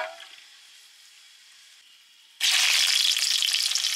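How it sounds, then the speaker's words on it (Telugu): Whole biryani spices hit a pan of hot ghee and oil: a quiet murmur gives way to a sudden loud, crackling sizzle that holds strong and close to the end. "ఒక 100 గ్రాములు ఆయిల్ పోస్తున్నాను. ఇవన్నీ బిర్యానీ దినుసులండి. వీటిని కొంచెం వేగనిద్దాము."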